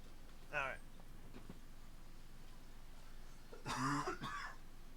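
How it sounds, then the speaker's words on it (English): A person coughs and clears their throat twice, a short rasp near the start and a louder, longer bout near the end, close to the microphone over a quiet room hum with no words spoken. "My throat was getting way too dry. Starting to have coughing issues."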